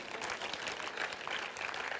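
An audience claps continuously in a church, a dense even wash of applause throughout without a clear break, with no distinct voices on top.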